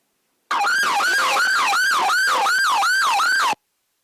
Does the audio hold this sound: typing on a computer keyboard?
no